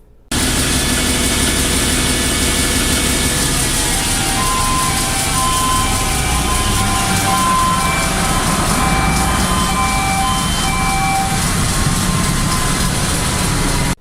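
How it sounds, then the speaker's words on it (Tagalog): A ship's generator running loud and steady under test, a constant heavy mechanical drone with tonal hum holding throughout, then cutting off abruptly at the very end as it shuts down on a simulated overspeed trip. "So, pakinggan nyo yung tunog pag nag-shutdown yung generator."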